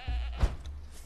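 A goat bleats once in the Conan Exiles survival game, a short nasal bleat rising over a low rumbling background of ambient game sound.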